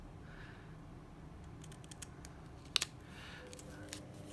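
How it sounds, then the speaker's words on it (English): Scissors snipping up the middle of a piece of material, a few faint close clicks followed by one sharper double snip in a quiet room. "I'm going to snip up the middle."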